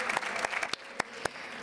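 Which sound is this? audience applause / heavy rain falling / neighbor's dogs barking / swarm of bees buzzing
audience applause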